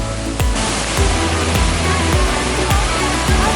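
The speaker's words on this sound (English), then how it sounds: "You are putting underneath a waterfall" A waterfall roars in a continuous, loud rush of white noise, with a few low knocks and thumps underneath.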